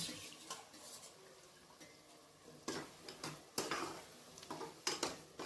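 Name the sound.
stirring boiled chickpeas into masala in a pan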